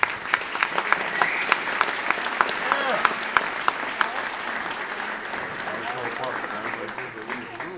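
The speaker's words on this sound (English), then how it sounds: "Give them one more round of applause." An audience at a middle school pops concert applauds in a dense, even wash of clapping with some sharp nearby claps, and voices murmur through it.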